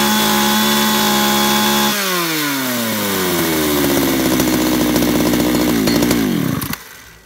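A chainsaw revs steadily at high pitch, then its engine note drops and winds down in a long falling whine before cutting off abruptly near the end, loud and close with no voices.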